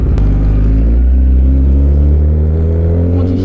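A 1000cc motorcycle engine revs loud and close, a deep steady roar with layered harmonics that climbs slightly in pitch and holds without a break.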